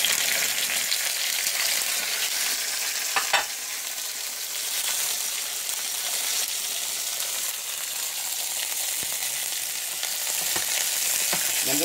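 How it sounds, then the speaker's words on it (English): Yellow, red and orange bell peppers with onion sauté in a pot, giving a loud, steady sizzle and hiss throughout with a few brief stirring clicks and scrapes. "I'm just gonna let it saute for a little bit."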